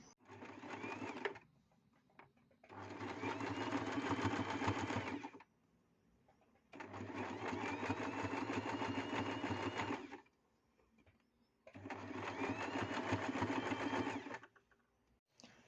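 A sewing machine stitching around the edges of a skullcap, running in several steady whirring bursts of a few seconds each with short quiet pauses between them, close and clear.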